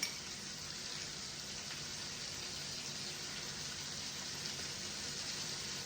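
Blackened cod fillets frying seasoning side down in a pan, a steady, even sizzle with a soft hiss and no talk.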